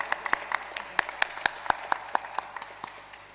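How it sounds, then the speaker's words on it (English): Audience at a church conflict resolution seminar giving a round of applause: scattered, sparse hand claps of varying loudness over a quiet room, thinning out toward the end. "let us have a round of applause"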